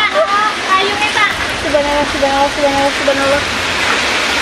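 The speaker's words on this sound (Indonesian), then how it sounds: "Warga merekam saat hujan turun disertai angin kencang" Heavy rain with strong wind in a village in East Lampung, Indonesia, a loud steady roaring wash throughout, with a person speaking over it.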